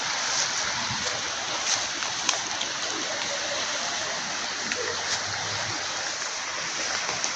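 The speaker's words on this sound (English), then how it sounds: "Down there, as you can see, is the Nairobi River flowing." The Nairobi River flowing through a city park, a constant broad rushing and gurgling of water heard from a short distance, with a few faint knocks and no clear talking.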